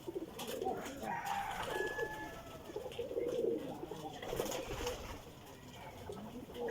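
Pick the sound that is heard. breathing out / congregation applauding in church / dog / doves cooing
doves cooing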